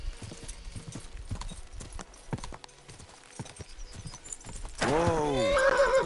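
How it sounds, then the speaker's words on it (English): A horse in the video game Kingdom Come gallops with rapid, rhythmic hoofbeats, then gives a loud, drawn-out neigh near the end, with faint game ambience underneath. "Oh, is there a point the horse bucks me off?"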